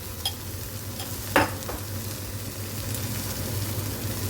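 Spice paste being lightly roasted in a pan for a Hyderabadi dish, a soft continuous sizzle with occasional spoon scrapes and one sharper clink, under a steady low hum.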